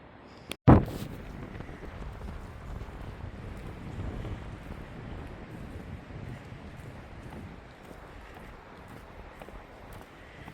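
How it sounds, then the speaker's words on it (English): Wind blows steadily across an outdoor microphone in Northeast Ohio during a winter thaw and refreeze, a continuous rushing roar after a sharp knock near the start, with no voices. "Northeast Ohio, you do get a lot of wind"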